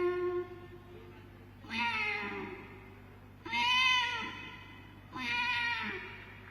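A mimicry artist at a Kerala state school arts festival imitates a kitten meowing, giving three drawn-out, rising-and-falling mews a second or so apart, clear and close against a quiet hum.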